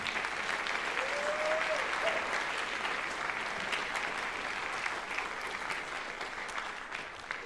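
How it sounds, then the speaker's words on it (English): An audience at a high school band winter concert gives a long, sustained round of applause, dense and even, fading slightly toward the end. "So how about a huge round of applause for Mr. Cochran"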